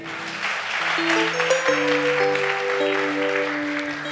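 A church congregation claps together in a sustained round of applause, with held musical tones sounding beneath it.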